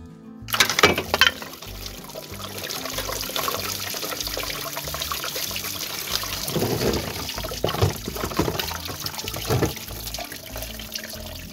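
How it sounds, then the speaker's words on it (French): Coolant draining out of a 1.6 HDi engine during timing belt and water pump work, a steady continuous pour of liquid splashing into a container, fairly loud and close throughout with no talk. "t'as bien pensé à vider le liquide de refroidissement avant de faire la pompe à eau?"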